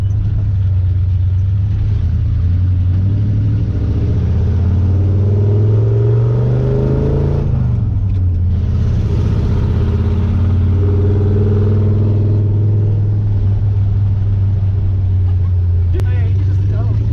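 A 1975 Ford Highboy truck running on its swapped 390 V8, a loud deep idle throb rising in pitch as the revs climb, dipping, then settling into a steady low burble, with people talking over it.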